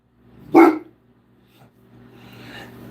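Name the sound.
dog barking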